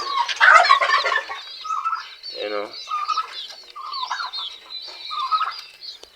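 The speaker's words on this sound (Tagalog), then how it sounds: "napakarami na natin mga sisiw" Many Plymouth Rock chicks on a farm in Bulacan peep in a constant chorus of high, shrill chirps, close and lively, with someone speaking briefly partway through.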